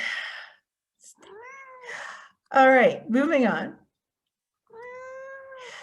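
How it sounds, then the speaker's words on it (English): A house cat meows several times close by, loud drawn-out cries in two clusters, between stretches of a person talking. "my cat just contributed."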